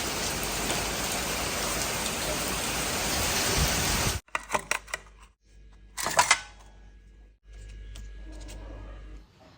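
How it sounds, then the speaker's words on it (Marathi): Steady rain pours loudly for about four seconds, then cuts to quieter stretches with scattered close clatters and brief bursts of patter. "हा पाऊस आला"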